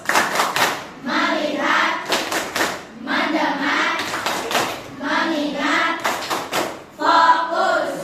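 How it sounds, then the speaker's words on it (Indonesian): Children in a classroom chant and clap a rhythmic focus clap together, bursts of sharp claps alternating with voices in a repeating pattern, loud and close. "Ulangi, tepuk fokus."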